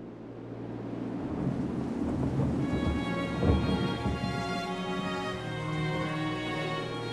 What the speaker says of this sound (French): La pluie tombe, sans discontinu.